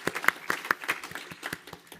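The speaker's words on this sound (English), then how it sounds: "That's worthy of applause." Claps from a church congregation at a Sunday service, a sparse handful of sharp, separate hand claps at an uneven rhythm, close and fairly quiet, with no voices over them.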